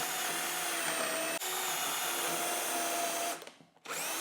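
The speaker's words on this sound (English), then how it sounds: "And all I have to do is drill out my holes." A power drill bores holes for cabinet hardware, a loud steady high whine with a brief dip near the start and a short pause just before the end.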